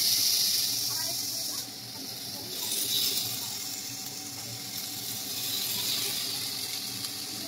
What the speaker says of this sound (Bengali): মোটামুটি আমি একটাতে 4টে করে ভাজছি, 4টে করে ভাজা যাবে।